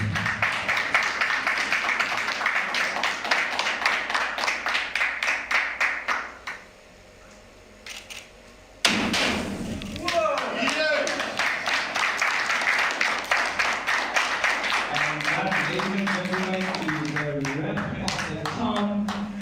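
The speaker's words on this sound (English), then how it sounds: "Big round of applause for Charlie York." A crowd applauds with a dense, steady patter of clapping for the winner of a snooker final at a trophy presentation, pausing briefly midway before rising again, with an announcer's voice underneath.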